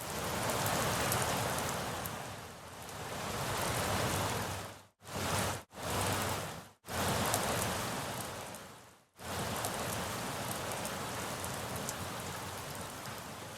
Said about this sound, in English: some rain sound effects I found on Splice that are being just swept in rhythmically with the piano and everything